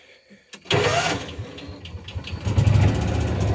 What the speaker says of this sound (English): Let's just crank her up just to show you.